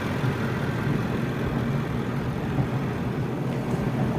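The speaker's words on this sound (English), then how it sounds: "Very impressive engine." A 2016 Range Rover Sport Autobiography engine idling, a steady low rumble that holds even and continuous throughout with no talking.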